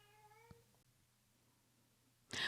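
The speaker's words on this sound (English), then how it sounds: "my cat, if you rewind the video, was meowing in the background" A house cat gives one short, faint meow in the background of a quiet room during a stamping craft session. A brief louder rustle comes near the end.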